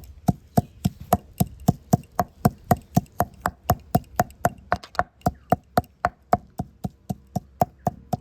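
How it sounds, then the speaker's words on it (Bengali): Leaves being crushed on a stone grinding slab, a shil nora, in steady rhythmic knocks, about three per second, close and crisp against a quiet background. "এবারে শিলনোড়ার মধ্যে এই পাতাগুলো একটু থেঁতো করে নেব।"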